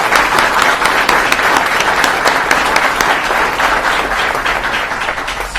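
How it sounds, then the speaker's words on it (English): Dense, sustained applause from a large audience at a political event with the Vice President, welcoming a law enforcement guest, with steady loud clapping filling the space throughout. "I'd like to give him a round of applause"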